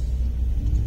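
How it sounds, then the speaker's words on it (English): Road traffic on a highway produces a steady low rumble of passing cars, a continuous near engine and tyre drone lasting about a second. "I don't like traffic like this."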